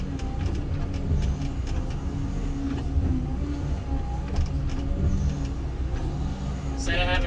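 Cat 316F excavator with an Engcon tiltrotator rake pushing debris during backyard clearing, a steady low diesel engine drone with faint scraping and rattling throughout, ending in a brief sharper hiss.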